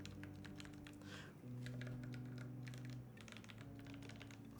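Mechanical keyboard with heavily lubed Hippo switches and GMK keycaps on a TG67 KL build, typed in quick soft clacking bursts at close range over a steady low background hum.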